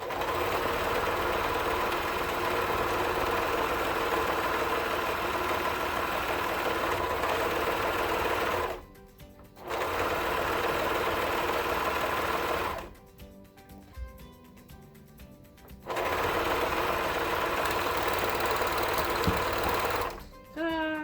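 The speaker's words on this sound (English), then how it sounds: "So we serged all of the elastic in." A serger sews elastic into a swimsuit, its fast mechanical whir running loud and close in long bursts, stopping briefly twice before resuming.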